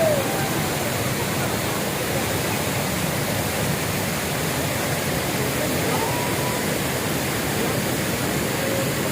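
Hogenakkal Falls roars as a dense, continuous rush of falling water, loud and steady throughout with no pauses.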